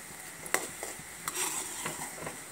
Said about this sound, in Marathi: तर आपल्याला ह्या गुळाला छान उकळी आलेली आहे.